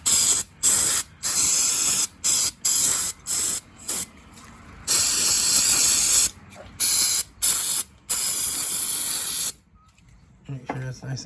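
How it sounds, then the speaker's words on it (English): Repeated close bursts of starting fluid sprayed from an aerosol can onto an O2 sensor on a 2006 Buick Lucerne hiss in short rhythmic pulses, then one longer spray, ending in quiet with a faint voice. "I'm just gonna spray it off real good with some starting fluid here"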